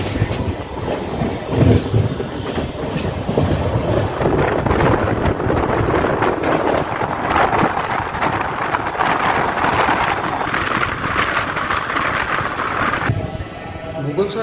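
The Doon Express train rolls along from Howrah with a continuous rumble, rhythmic clickety-clack of the wheels and wind buffeting, heard loud and close from on board throughout.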